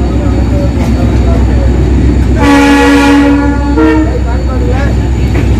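Mumbai–Nagercoil express train at Kadiri railway station, a loud, steady rumble with a horn blast sounding partway through.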